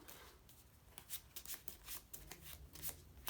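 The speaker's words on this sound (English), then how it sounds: "I'll just shuffle them up" Cards being shuffled close by, quietly: brisk riffling flutters in a few quick bursts with no talking, a deck for the board game Lair of Darkness.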